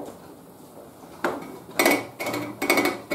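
A saw blade binds while cutting a box joint in wood, giving several harsh, rattling bursts in quick succession that rise out of a quiet shop background.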